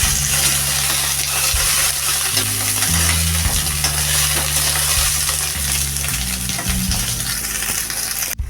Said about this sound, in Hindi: इसे अच्छे से शैलो फ्राई करेंगे, ज़्यादा डार्क नहीं करेंगे।